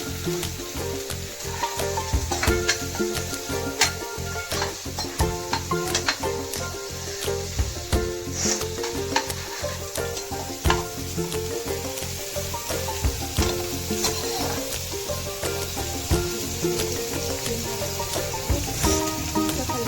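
Onions sizzle steadily in hot oil, close and loud, with a utensil scraping and stirring through the pan in a fairly regular rhythm the whole time.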